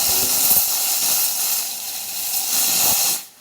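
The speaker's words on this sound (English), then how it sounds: "And steams pretty well too. So let's go ahead and check the steam." Steam wand of a Gaggia Classic espresso machine, serviced after clogging, hisses loudly and steadily up close for about three seconds before cutting off abruptly.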